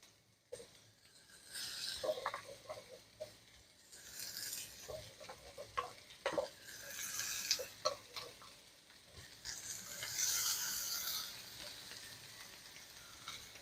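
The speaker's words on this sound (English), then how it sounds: "Hear that sizzle?" Burgers frying in an oiled pan, giving a crackling sizzle in uneven bursts with scraping and stirring clicks close by, and no voices.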